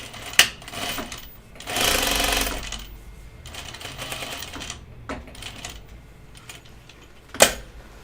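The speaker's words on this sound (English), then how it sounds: "I'm going to use my top stitch thread to sew my dart" A domestic sewing machine stitches a dart in topstitch thread on overalls, running in short bursts of rapid mechanical chatter with pauses between, punctuated by a couple of sharp clicks and handling knocks.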